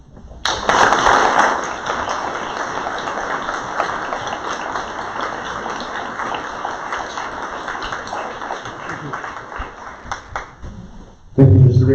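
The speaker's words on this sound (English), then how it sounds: "I would be remiss if I didn't ask for a round of applause for Mrs. Conver and Mrs. Rader" A school board meeting audience breaks into a round of applause that starts abruptly, holds at a steady moderate level of many clapping hands, then fades before a louder thump at the end.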